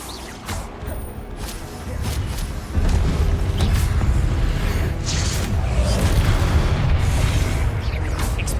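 Confringo spell blasts from Hogwarts Legacy combat, deep booming explosions that swell into a sustained loud rumble with crashing debris.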